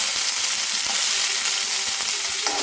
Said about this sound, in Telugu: అల్లం వెల్లిపాయ పేస్ట్ వేసాక కొంచెం తాలింపు గింజలు వేసుకొని ఉల్లిపాయలు కరెక్ట్గా వేసుకుంటాము